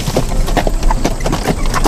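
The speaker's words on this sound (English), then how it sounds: "We have about 10 horses here at the farm." Several horses on a farm walking with a steady clip-clop of hooves, a continuous rhythmic patter of hoofbeats at moderate distance over a low background rumble, with no talk.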